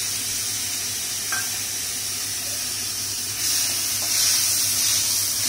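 Chopped tomatoes going into salted onions frying in a pan for a Marwari dhokri dish, a steady hiss of sizzling oil with brief crackles, swelling louder toward the end.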